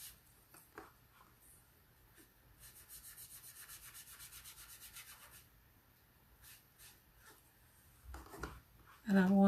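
Quick wiping strokes across a handmade card to build a rough wall texture, a soft rhythmic rubbing of moderate level with brief pauses, ending in a louder handling noise.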